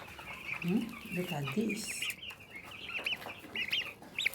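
Young turkeys and chickens in a brooder chirping and peeping in rapid high bursts, with a few lower clucks, close by while a person speaks briefly over them.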